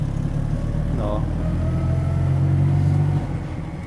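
A Fiat 126p's small engine runs with a steady low rumble that swells briefly and then eases off, while a voice speaks a short word over it.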